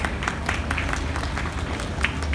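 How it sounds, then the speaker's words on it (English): Audience applause welcoming Chef Tejas and Chef Abhishek at a World Food India cooking event, a steady wash of many hands clapping at moderate volume with no clear talk over it. "Let's put a round of applause, guys."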